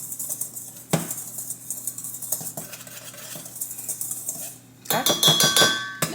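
A whisk clatters against a bowl, combining flour, salt, baking soda and baking powder for oatmeal raisin walnut cookies, with rapid close metallic scraping that pauses briefly and then returns louder and busier.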